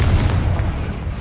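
The Confringo explosive spell goes off in the Hogwarts Legacy video game, a heavy, loud, low booming blast with rumbling burst that fills the brief moment.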